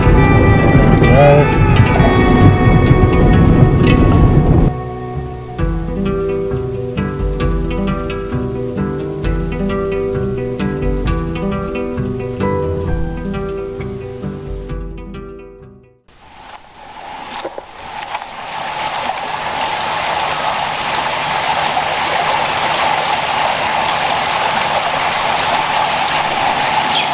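Vehicle fording the Calvert River crossing between Borroloola and Hell's Gate Roadhouse, heavy splashing and churning water followed by a steady rushing wash, close and loud.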